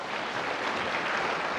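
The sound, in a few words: church congregation applauding in welcome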